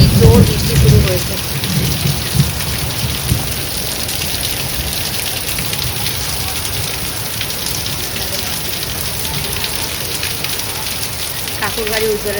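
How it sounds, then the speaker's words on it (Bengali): A heavy downpour roars steadily and loudly, close by and without letup, with a brief voice and muffled rumbles near the start. "দেখো কি জোর বৃষ্টি শুরু হয়েছে।"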